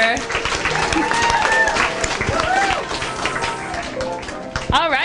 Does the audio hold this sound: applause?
yes